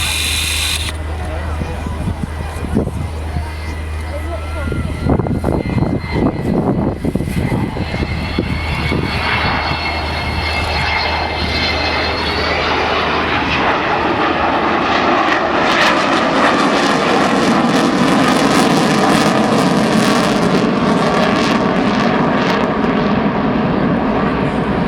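Avro Vulcan XH558 delta-wing bomber passing overhead at RNAS Culdrose, a loud sustained engine roar that swells and grows rougher and broader as it nears, with camera clicks and speech heard faintly alongside.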